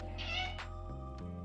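A house cat meows indoors over a steady low hum, with two or three drawn-out calls close by at moderate volume and no talking.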